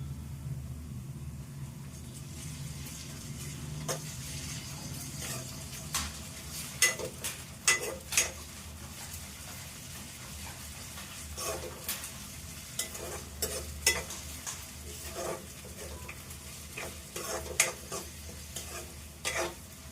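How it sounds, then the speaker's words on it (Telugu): Ginger paste fries with onions in a pan for chicken curry, a low steady sizzle broken by repeated sharp scrapes and clacks of a utensil stirring; no one talks. "కొద్దిగా అల్లం పేస్ట్ అందులో వేసి"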